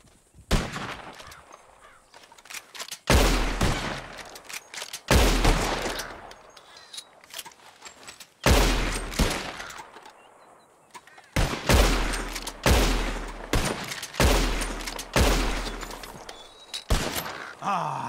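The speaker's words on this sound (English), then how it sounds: "Whoever shoots four birds out of the sky first wins." Gunshots ring out while birds are shot in Red Dead Redemption 2, a series of loud single cracks spaced a second or two apart, each followed by a decaying echo, with quiet gaps between.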